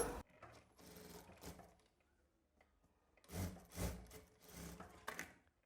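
A sewing machine stitches the shoulder seam of a frock in several short bursts of rapid whirring, close and fairly quiet, separated by pauses.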